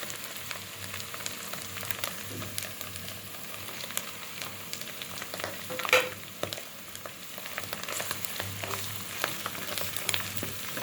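Ingredients sizzle steadily in hot oil in a kadai, a continuous crackling fry with occasional stirring clinks, close and moderately loud with no talking.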